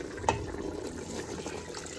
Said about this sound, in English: what I'm gonna be doing now is to add some more hot water to this